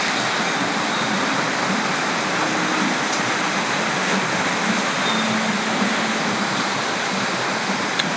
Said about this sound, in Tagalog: Ayan, umuulan na naman eh.